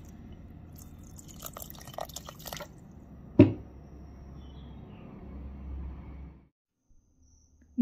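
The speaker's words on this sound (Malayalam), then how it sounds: "കുറച്ചധികം വെള്ളം ഒഴിക്കുക." Water is poured into a pan of pineapple pachadi, an Onam dish, as a steady close splashing pour lasting about six seconds with a single sharp clank midway, then it stops into near silence.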